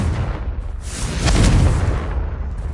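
A Confringo blasting spell goes off in a video game, a single deep, loud boom with a rumbling swell near the middle, close and full.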